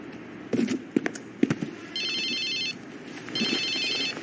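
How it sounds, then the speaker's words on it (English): A cartoon cell phone goes off with two bursts of shrill electronic ringing, the second after a short pause, following a few sharp thuds and clatters; no voices are heard. "allowing his cell phone to go off"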